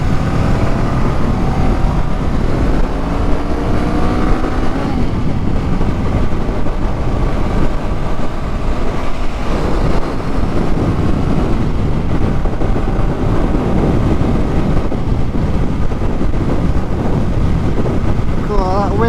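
Icy wind roaring past a rider on a Honda Rebel motorcycle, a loud, constant buffeting rush over the engine's low drone that never lets up.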